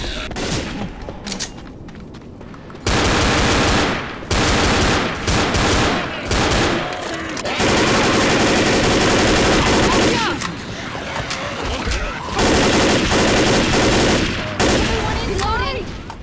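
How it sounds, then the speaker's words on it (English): Machine gun fire in the video game Left 4 Dead: long, loud stretches of continuous automatic fire broken by brief pauses, with dense overlapping gunshots throughout. "A machine gun."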